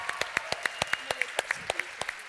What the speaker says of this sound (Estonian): Teeme neile veel ühe suure aplausi.